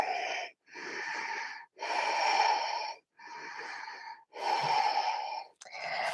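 Deep rhythmic breathing during a vinyasa yoga flow, with five or six long, airy, slightly wheezy inhales and exhales close to the microphone, separated by brief pauses.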